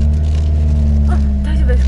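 A car engine drones steadily and close while being driven to warm its tires on the Gunma Cycle Sports Center mountain pass, with a person talking over it.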